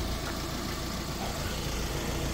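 A 2016 drain-cleaning van with a 2.2 engine idles steadily, a continuous low rumble with faint broadband noise, heard close and alone with no talk.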